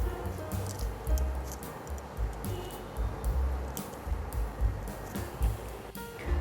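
Dough for lachha paratha being pinched and rolled into balls by hand, giving soft, damp squishing and pressing sounds that repeat in an uneven rhythm, close and fairly quiet, with no talking.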